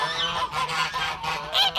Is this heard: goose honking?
yes